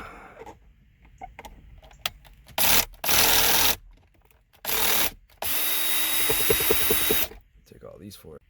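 Power drill backing screws out of a Ram 1500 pickup dashboard during a radio install, several short whirring bursts followed by a longer steady run, with quiet clicks and handling noises between them.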